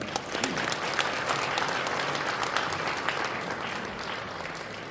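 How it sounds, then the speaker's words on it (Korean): A congregation at a national men's mission association prayer gathering at a resort in Pyeongchang claps steadily to welcome a pastor to the stage, a continuous warm round of applause with no talking. "목사님 나오실 때 뜨거운 박수로 환영해 주시기 바랍니다"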